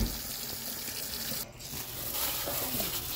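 Kitchen tap water runs steadily into a sink while sausage and corn are rinsed for a seafood boil, a close, continuous splashing hiss with a brief dip midway.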